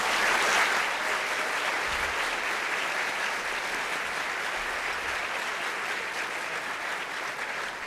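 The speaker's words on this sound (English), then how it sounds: "Big round of applause for Dr." Sustained audience applause fills a lecture hall at the McGaugh-Gerard Lecture on Learning and Memory, a dense, even wash of clapping honoring Dr. McGaugh, steady for several seconds and tapering slightly at the end.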